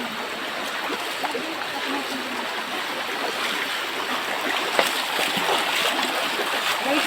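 Feet wade through the shallow water of a creek, with steady trickling and splashing heard up close and faint voices in the background.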